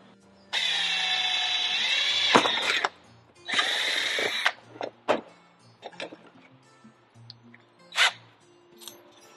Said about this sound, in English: Now I'm drilling a pilot hole with my 1/8 inch bit.